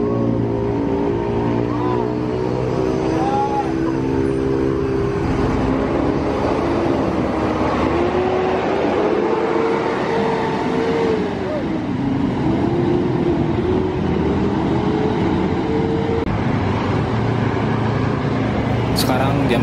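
A Rosalia Indah intercity bus bound for Solo and Madiun pulls away from the Cikokol agent stop in the evening, a loud rising and falling engine drone that fills the whole stretch while someone talks over it.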